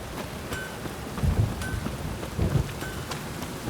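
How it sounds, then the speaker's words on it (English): Heavy rain in The Witcher 3, steady rainfall patters throughout, with low rumbling swells and occasional sharp high ticks layered over the downpour. "It's raining buckets."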